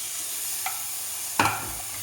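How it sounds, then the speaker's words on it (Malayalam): Cleaned crab is stirred with masala in a pan for crab curry, a soft background sizzle broken by two short scraping stirs, the second louder and closer. "നന്നായിട്ട് മസാലക്കൂട്ട് ഇതെല്ലാം കൂടി മിക്സ് ചെയ്ത് കൊടുക്കണം"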